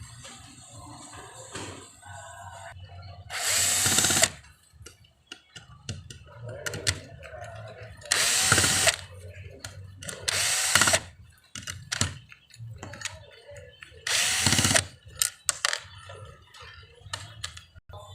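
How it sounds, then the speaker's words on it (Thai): Four short, loud whirring bursts from an electric screwdriver as screws are taken out of an 18-inch industrial fan motor, separated by quieter handling noises and someone talking. "ถอดสกรูเมื่อกี้ออกนะครับสี่ตัวแล้ว"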